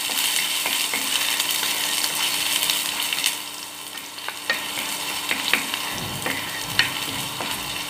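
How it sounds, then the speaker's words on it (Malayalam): Ginger and garlic sautéing in hot oil for a restaurant-style dish: a steady close sizzle with scraping stirs and occasional spoon taps throughout, no voices. "നമുക്ക് ഇഞ്ചി വെളുത്തുള്ളി ഇതിലേക്ക് ഇട്ട് കൊടുക്കാം നയൊന്ന് വഴറ്റി കൊടുക്കാം"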